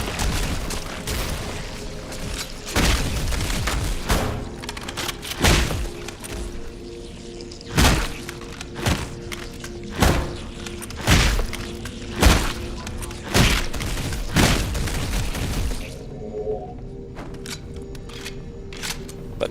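Gunfire and heavy explosions in Halo Anniversary, with a pistol and a rocket launcher: repeated loud blasts and thuds land at irregular intervals, some in quick bursts, under steady game ambience.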